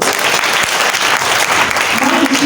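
Children applaud together at a book and reading festival, giving a loud, continuous burst of clapping that fills the room, with a voice rising faintly near the end.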